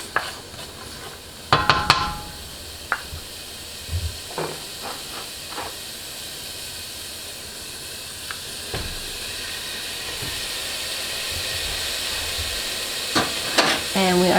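Onions sautéing in a pan for a basic tomato sauce, a steady hissing sizzle with scattered utensil scrapes and knocks, heaviest at the start and end, close and fairly loud.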